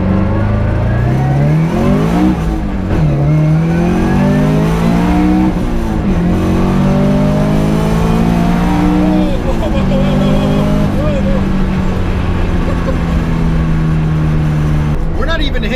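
A turbocharged car accelerates hard from inside the cabin, the engine note rising steeply through several gear changes, loud and sustained with people talking underneath.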